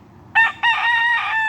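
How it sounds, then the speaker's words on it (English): A game rooster with an injured leg crows once nearby, a loud, bright cock-a-doodle-doo that starts with a short burst and then stretches into a long wavering call. "Rooster's been through more hell than Satan's been through"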